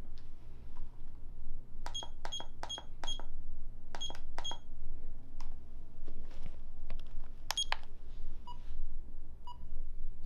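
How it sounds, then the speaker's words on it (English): A timer beeps in quick runs of short, sharp electronic tones, first several groups of rapid chirps and then fainter scattered beeps, over a steady low room hum. "The timer reminds me of something."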